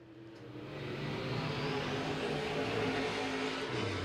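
A sportsman late model race car runs a lap at Crossville Speedway, its engine a faint, distant, steady drone that swells in over the first second and then holds.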